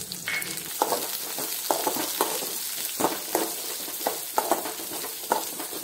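Garlic, mustard seeds and cumin sizzle together in hot oil in a kadai, a steady crackling fry broken by repeated soft stirring scrapes and clatters, close and moderately loud with no talking.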